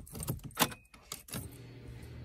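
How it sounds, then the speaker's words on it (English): A car key jangles on its ring and is turned in the ignition, giving a few quick close metallic clinks and clicks followed by a faint low hum from the dashboard electrics. "you need to make sure that your ignition is turned on"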